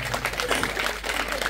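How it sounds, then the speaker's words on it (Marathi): Audience applause at a live hypnotism stage show, a dense burst of clapping from a crowd lasting a second or two. "जोरदार टाळ्या होऊन जाऊ द्या."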